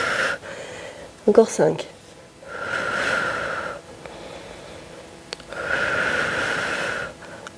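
Deep breathing during a power yoga session: slow, audible inhales and exhales in long even swells, close to the mic, with a short snort-like gasp near the start and a voice briefly counting between breaths.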